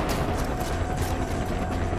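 Dense, continuous gunfire in the video game Far Cry 4 during an airport fight: a loud, sustained rattle of shots with mechanical clatter running without pause, and no speech.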